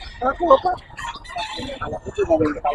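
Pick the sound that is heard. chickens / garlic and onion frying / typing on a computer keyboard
chickens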